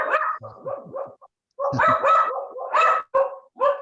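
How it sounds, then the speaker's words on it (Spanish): Dogs bark in the background of an online talk on national education law, giving several sharp bow-wow barks in uneven bursts with short pauses, mixed with a yip and a faint whimper. "Escuchan mis perros de fondo también."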